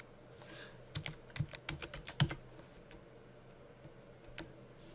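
Someone types a password on a computer keyboard to log into an Asus RT-N56U router, producing a quick cluster of close, crisp key clicks with a few sparse taps trailing off.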